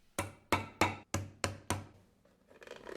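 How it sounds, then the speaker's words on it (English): Leather rivets are set on an anvil for a heart-shaped leather bag: six sharp, evenly spaced hammer strikes ring out close and loud, followed by faint rustling. "We put the rivets in and then just set them."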